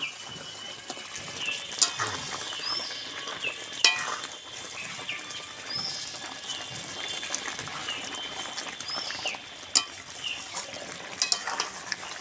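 Methi chicken with fried fenugreek greens is stirred and sautéed in a pan. A soft, steady sizzle runs throughout, broken by scraping, clinking utensil strokes against the pan at irregular intervals.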